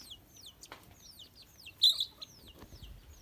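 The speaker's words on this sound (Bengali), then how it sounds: "মুরগিরা দেখেন আবার আদার দিচ্ছি" Backyard chickens clucking and calling as they are fed rice, a series of short clucks and one louder burst near the middle, with a rooster-like squawk. Distant chirping is also heard, and no one talks.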